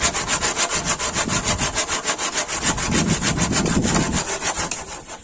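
Steady back-and-forth strokes of a hand saw rasp loudly and close through wood or bamboo, keeping an even rhythm throughout.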